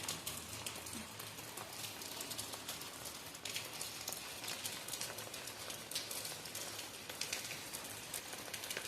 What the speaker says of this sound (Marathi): बघताय तुम्ही की पाऊस सुरू आहे